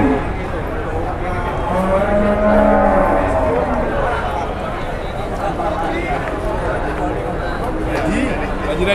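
A jumbo cow at a cattle sale lows in a long, rising moo near the start, amid a busy outdoor crowd with people chattering throughout.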